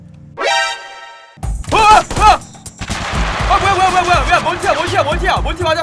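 Gunfire in the wacky zombie shooter Totally Accurate Battle Zombielator: a few loud, sharp shots ring out close by, mixed with game noise, while someone talks excitedly over them.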